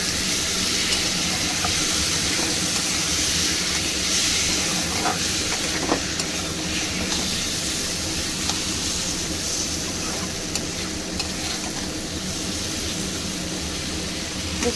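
Steady, loud sizzling of spices, green chilli, tomato and ginger paste frying in a pan with turmeric, a continuous hiss with faint stirring scrapes throughout.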